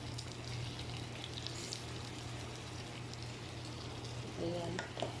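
Salmon frying in a pan as sauce is added, giving a soft, steady sizzle with a low hum beneath it, faint overall, and a few brief clinks near the end.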